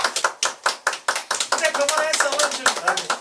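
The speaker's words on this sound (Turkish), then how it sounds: "Hadi alkışlayalım" Children clap in a snowbound container classroom, a steady run of sharp, close hand claps with short pauses, voices talking and singing over them toward the end.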